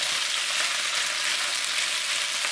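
Pork belly fries in a pan over medium heat for a Chinese spicy pork belly dish, giving a steady, dense sizzle with no pauses and no voices.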